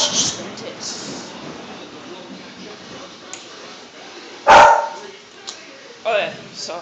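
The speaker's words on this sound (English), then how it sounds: "That's my evil dog." A dog barks indoors during a Florida thunderstorm: one sharp, loud bark stands out midway, followed by a shorter second yip, over a background of steady rain hiss and murmured talk.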